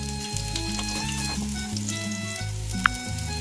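Gola kebabs frying in a pan over a high flame, a steady close sizzle with soft crackles and one brief sharp pop near the end, with no voices.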